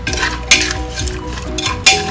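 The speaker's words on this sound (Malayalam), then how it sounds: "ഒന്ന് മിക്സ് ചെയ്ത് കൊടുക്കാം കേട്ടോ" Stirring pumpkin curry with garlic in a metal pot, with steady scraping and clinking of a spoon and two sharper knocks against the pot, close and fairly loud with no talk.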